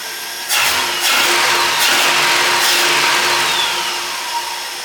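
A Ford 300 six-cylinder engine in a 1954 International R100 truck restarts while hot: a short crank bursts into a loud catch, revs up strongly, then settles into a steady, even idle close by, with no talking.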